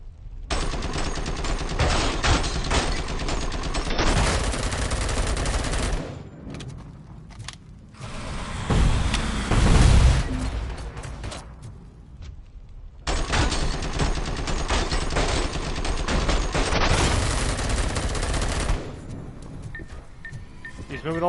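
Gunfire from a gun in the video game Robocop: Rogue City: long, loud, dense bursts of rapid automatic shots with mechanical clanks, broken by short pauses, and a voice talking over part of it.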